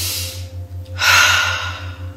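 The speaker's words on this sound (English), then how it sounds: "First inhale, we're filling up the belly, then the chest, then exhale." Slow, deep breathing during a guided relaxation session: a long airy inhale fills the second half, over a steady low hum in the background, with no speech.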